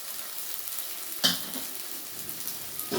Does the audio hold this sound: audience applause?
no